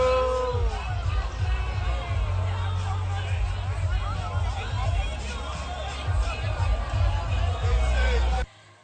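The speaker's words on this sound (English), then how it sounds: "They booed him" A large crowd at a New York Liberty parade jeers Mayor Eric Adams, a loud, sustained wash of voices and shouts that carries on until it cuts off abruptly near the end.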